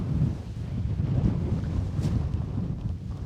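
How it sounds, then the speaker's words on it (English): Cold wind blowing across a Lake District summit near Great Gable at a winter wildcamp, a steady low roar buffeting the microphone throughout with no let-up. "It's just so lovely here, but it's cold in that wind."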